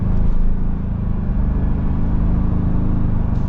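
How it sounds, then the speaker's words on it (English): A 2025 Ford Bronco Big Bend Sasquatch engine hums steadily while driving, a loud, smooth, continuous low drone from inside the cabin, with no speech. "I will say this engine's very smooth."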